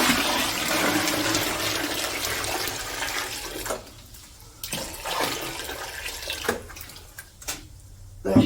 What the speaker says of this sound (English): The next thing I do here is add more water.